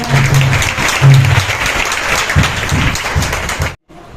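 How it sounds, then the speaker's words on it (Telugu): A prayer meeting congregation claps together in a loud, sustained burst of many hands with a few louder beats, then stops abruptly near the end. "చప్పట్లు కొట్టుకుందాం"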